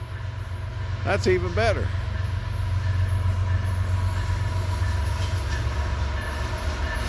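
An empty ethanol freight train rolls slowly along a siding toward a signal, a low continuous rumble of cars with a brief squeal early on, while someone talks briefly over it.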